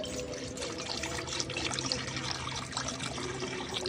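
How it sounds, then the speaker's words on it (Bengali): Water from a 500 ml bottle pours steadily into a wok as rasmalai made from powdered milk begins, a continuous splashing wash with no voices. "এই জলটা আমি কড়ার মধ্যে দিয়ে দেবো।"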